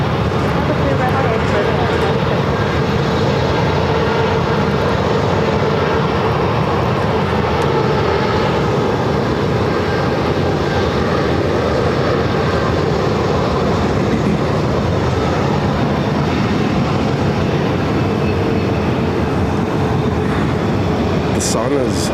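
A jet on approach to land at Phoenix airport gives off a loud, continuous roar that holds steady throughout, broadband and close, with a voice speaking over it.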